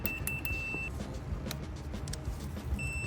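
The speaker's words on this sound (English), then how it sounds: "when it beeps, that's where our red wire should go" A thin, high electronic beep from a multimeter continuity test sounds in short pulses, then holds steady, then returns near the end, over a low background hum.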